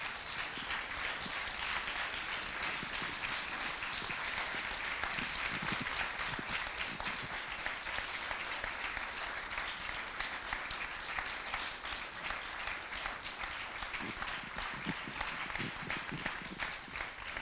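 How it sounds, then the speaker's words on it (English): A large audience at a lecture hall gathering applauds in a sustained, dense wash of clapping that stays even and moderately distant from start to finish. "The applause is wonderful"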